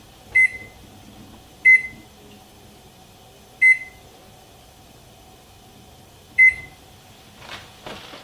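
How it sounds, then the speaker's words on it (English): A countertop oven's control panel beeps four times, with short, clear electronic tones at uneven intervals over a quiet room hum, followed by a brief click or rustle at the end. "I'll set the timer for 20 minutes"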